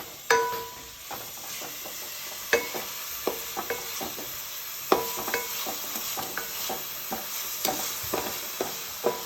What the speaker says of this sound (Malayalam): നമുക്ക് ഇളക്കാം.